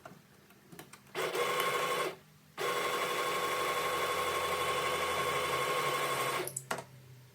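A sewing machine stitches a folded fabric seam on a coquette-style top. A brief run is followed by a pause, then a longer, steady, close whirring run of about four seconds. No talking.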